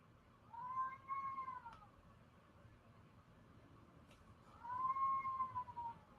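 A house cat begging for something gives two drawn-out meows a few seconds apart, quiet and slightly distant over a soft hum of room noise.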